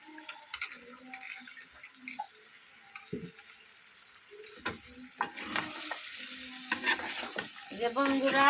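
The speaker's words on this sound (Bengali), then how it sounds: "এখন মশলা দিয়ে ভালো করে মাংস গলাকে কষতে নিব।" Beef stir-fries with spices in a pan, with irregular scraping and clinking stirs over a light sizzle that grows busier and louder toward the end.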